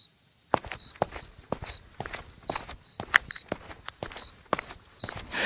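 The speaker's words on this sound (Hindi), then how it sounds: "तभी अचानक कदमों की आहट सुनाई दी।" Slow, deliberate footsteps against a quiet background, each step a distinct, close, hard knock in a steady walking rhythm, used as a spooky effect in a horror story set in a haunted house.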